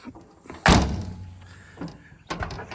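The door of an old, rusty Square Body Chevy truck slams shut once with a heavy, close metallic bang. A rattle follows, then a fainter knock near the end.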